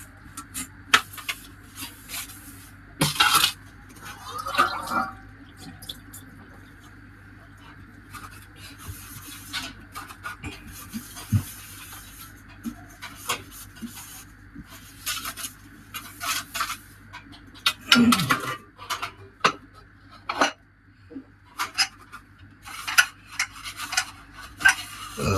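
Dishes and pressure cooker parts, including the rubber gasket, being washed and scrubbed by hand, with scattered clinks, taps and rubbing sounds at close range, quiet and intermittent with a steady low hum underneath.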